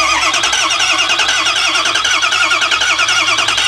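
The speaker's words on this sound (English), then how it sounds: "watch what happens when we crank it up" A Ford E350 bus with a 6.0 diesel engine cranks hard, giving a loud, fast, rhythmic chugging with the starter whirring close up and no talking.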